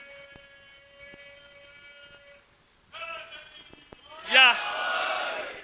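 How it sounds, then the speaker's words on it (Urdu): A congregation at a Muharram majlis chants religious slogans in unison, a loud rising group shout that swells near the end after a single voice leads in. "یہ جو نعرے لگے نا اس سے میں بڑا خوش ہوتا ہوں"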